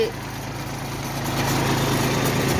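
A small tractor's engine drives a drip tape winder through its PTO, giving a steady, fairly loud mechanical drone with a low hum throughout.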